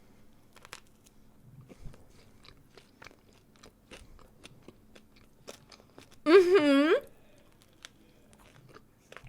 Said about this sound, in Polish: Bo jeszcze ten cukier tak fajnie chrupie.